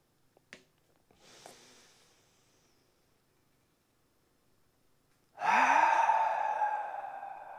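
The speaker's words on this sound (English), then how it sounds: "Taking in as much air as we can through the nose, letting it come back out through the mouth." A soft breath drawn in, then a louder, sustained exhale that swells and holds near the microphone during a gratitude meditation by a fire, with faint rustles before it.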